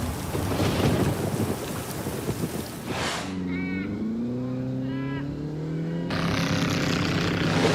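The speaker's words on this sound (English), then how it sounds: "heavy rain brings loading to an abrupt stop" Heavy rain and thunder in an Australian outback storm, a dense roaring wash of downpour that fades midway while a low tonal engine-like drone hums, then the rain surges back loud.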